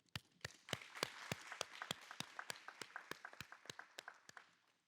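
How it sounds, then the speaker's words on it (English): A small event audience claps sparsely, a dozen or so distinct, fairly spaced sharp claps building into faint scattered clapping that fades out. "let's give them a round of applause"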